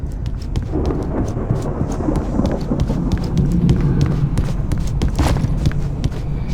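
A rainstorm in the video game Alan Wake, with steady heavy rain hiss and a rumble of thunder, plus sharp crackling spikes scattered throughout, loud and continuous without speech.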